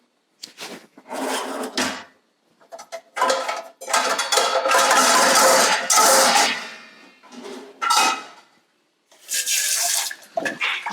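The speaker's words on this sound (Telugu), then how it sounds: "గిన్నె నీటికి కడుక్కుంటాం." A cooking pot washed under running water in a kitchen sink, bursts of tap water splashing and rushing in several separate runs, with clunks of the pot being handled between them.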